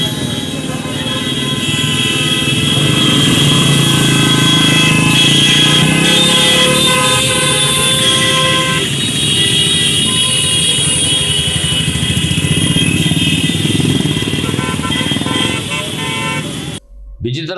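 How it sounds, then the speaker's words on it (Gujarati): A bike rally of about 500 motorcycles streams past, a dense, continuous roar of many engines with scattered horn toots, loud and steady throughout before cutting off abruptly at the end. "આ બાઇક રેલીની અંદર અંદાજે લગભગ 500 જેટલી બાઇક જોડાઈ છે"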